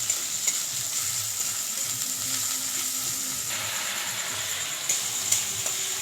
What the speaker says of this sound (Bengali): এখন ভালো করে কষিয়ে নেব মশলাটা।